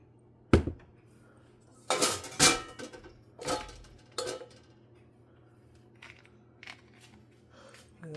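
Dishes are handled in a kitchen while French toast is being made, giving a few scattered clinks and clatters of plates and utensils, sharp and fairly close, with quiet gaps between them.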